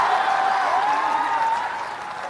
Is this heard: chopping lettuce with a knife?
no